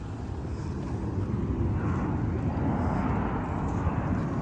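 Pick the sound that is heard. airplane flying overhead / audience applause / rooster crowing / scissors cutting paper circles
airplane flying overhead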